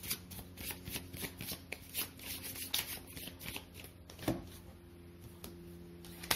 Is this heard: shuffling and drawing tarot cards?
yes